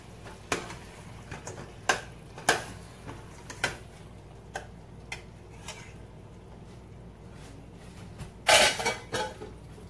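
Pieces of oven-baked turkey meat dropped into a pot of Ghanaian spinach stew, a series of sharp clinks and knocks of utensil against pot at irregular intervals, with a louder clatter near the end in a quiet kitchen.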